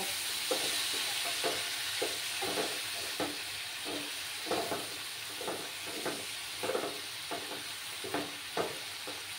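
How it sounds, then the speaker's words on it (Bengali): Spice masala being sautéed and stirred in a pan with a little hot water, a steady hiss under a run of regular stirring scrapes and clicks, close and fairly quiet, with no talking. "সামান্য একটু গরম জল দিচ্ছি আমি, দিয়ে ভালো করে মশলাটাকে কষিয়ে নেব"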